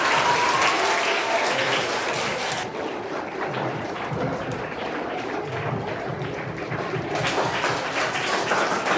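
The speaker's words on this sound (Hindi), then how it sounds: "जैसे ही वे लोग क्लासरूम में प्रवेश करते वैसे ही तालियों की गड़गड़ाहट से उनकी स्वागत की जाती है" Schoolchildren in a packed classroom at a class 8 farewell party clap to welcome classmates as they walk in, a sustained patter of many hands that dips in the middle and then swells again.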